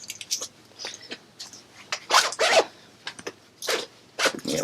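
A zipper with a red glittered pull on a knitting project bag is opened in several quick, close rasping pulls with short pauses, alone and fairly loud.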